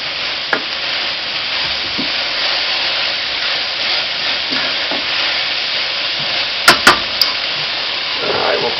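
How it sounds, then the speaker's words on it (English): Steady loud sizzling of chicken frying in a pan, with occasional clicks and scrapes of stirring, close up; a voice speaks briefly underneath. "Now it's just a matter of frying up some of the chicken."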